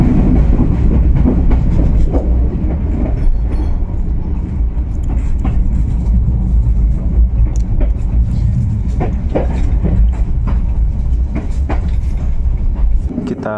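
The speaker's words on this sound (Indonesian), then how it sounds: "kereta api Kuto Jaya Selatan diberangkatkan dari stasiun besar Kiara Condong" The Kutojaya Selatan passenger train rolls out of Kiaracondong station in Bandung at night, heard from inside as a loud, steady rumble with rhythmic clickety-clack of wheels over rail joints, with people talking faintly beneath.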